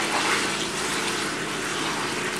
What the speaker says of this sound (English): I'm going to pour the chilled wort into the carboy with a sanitized funnel.